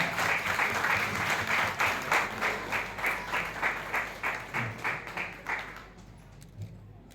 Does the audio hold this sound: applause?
yes